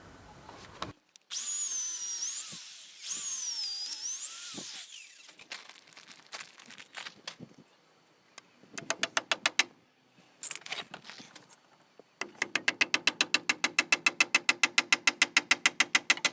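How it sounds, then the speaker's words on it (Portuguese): A power drill whines in two bursts, then a hammer gives a few knocks and finally a rapid run of sharp, evenly spaced blows while nailing a roof eaves board for tiles. "agora é só furar e pregar"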